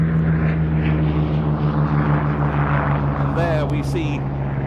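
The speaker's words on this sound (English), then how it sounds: "the Hurricane 12 of the historic aircraft collection takes off under the Gladiator" A Hawker Hurricane XII from the historic aircraft collection takes off at a VE Day air show, its engine a steady droning hum with a strong low tone, while a commentator talks over it.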